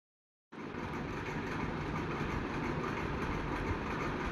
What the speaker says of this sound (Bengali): হাতিবেড়া স্টেশন থেকে রেল ছেড়েছেন এইমাত্র